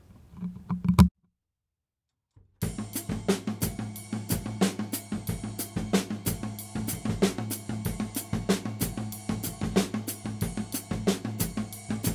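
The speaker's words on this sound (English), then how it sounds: "we're going to split it up between the ride cymbal and rack tom" Steady sixteenth-note drumming alternating between a washy ride cymbal and a resonant rack tom, even and continuous after a short silence at the start.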